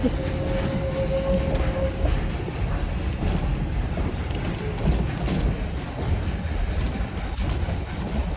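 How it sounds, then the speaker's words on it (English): An 1880 Train passes in the Black Hills of South Dakota with a steady low roar and clatter, mixed with wind buffeting the microphone, sustained throughout. "Oh, here's the train going through."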